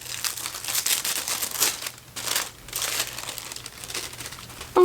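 The plastic packaging of a subscription book box crinkles and rustles close up as it is pulled open, in busy bursts with a short pause midway.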